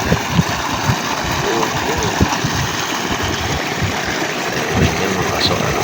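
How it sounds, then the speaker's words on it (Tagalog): A 3 HP solar-powered surface pump moves water in a steady, continuous rush, with a low, even mechanical hum beneath the flow throughout. "3 HP surface pump po yan."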